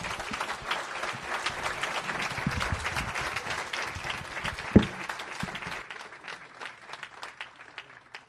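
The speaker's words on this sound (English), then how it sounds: "Let's give another round of applause" Applause at a Washington State Juneteenth celebration, a crowd clapping steadily for about six seconds with one sharp thump partway through, then thinning into scattered claps.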